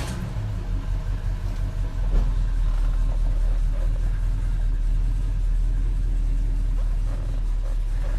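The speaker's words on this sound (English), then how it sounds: "we're going to take the car around the block" 1969 Dodge Super Bee engine while driving, a deep, steady low rumble with a brief bump in level, continuous and fairly near, without speech.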